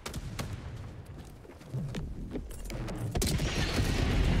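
Gunfire and explosions in the video game Helldivers building to a rolling nuke blast, close and loud, with a rapid volley of shots giving way to a sustained roaring boom.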